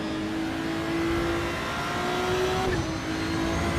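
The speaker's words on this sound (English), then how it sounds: "Tiny little cute little turbo sound when I shift." A GT3 race car in the racing game Project Motor Racing runs at steady engine drone, with a small turbo whoosh or flutter as it shifts gear partway through, the note dropping and settling afterward; no one talks.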